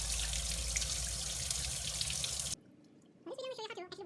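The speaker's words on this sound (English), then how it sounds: "I'm going to wash this filter." A Bosch pressure cleaner sprays water onto a Diamond Master water filter, a loud, steady hiss that cuts off abruptly, after which someone talks against faint background noise.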